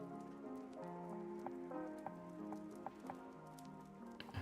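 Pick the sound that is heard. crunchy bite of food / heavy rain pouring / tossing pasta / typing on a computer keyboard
heavy rain pouring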